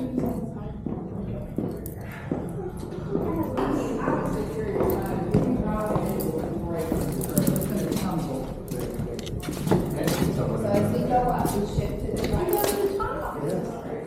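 A horse's hooves clop unevenly with snorts and movement, while people talk throughout in a busy outdoor street setting in Savannah during St. Patrick's Day.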